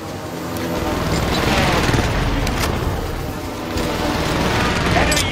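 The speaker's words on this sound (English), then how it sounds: "Allied precision airstrike incoming." A precision airstrike in a first-person shooter video game brings loud, rumbling explosion booms with sharp crackling bursts that swell and roll on for several seconds.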